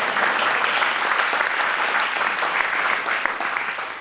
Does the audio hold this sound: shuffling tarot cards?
no